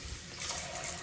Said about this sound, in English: the hot water coming from the tap